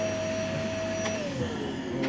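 A vacuum cleaner runs steadily with a constant whining drone and a pitch that slowly drops, close by and with no talk.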